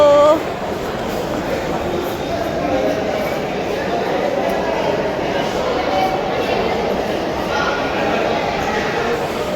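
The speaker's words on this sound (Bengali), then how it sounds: "আমরা এখানে আসতে না আসতেই একটা ট্রেন ছেড়ে গেল" A train pulls away from a railway station, a steady loud rumble and rushing noise filling the space while people nearby talk over it.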